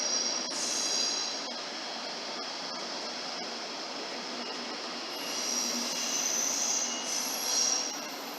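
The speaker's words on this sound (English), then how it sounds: "What I really like about these trains is the noise they make when they pull up. It sounds like a violin" A Siemens Taurus locomotive pulls a train up at Hamburg Hauptbahnhof while its wheels squeal in high, violin-like tones. The squeal rises and fades over a steady rolling rumble, with a few sharp clicks from the rails.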